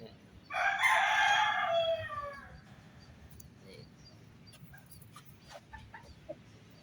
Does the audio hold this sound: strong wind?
no